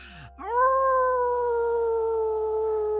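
A single long, sustained howl in imitation of a wolf, rising at the start and then holding steady and loud for about two and a half seconds.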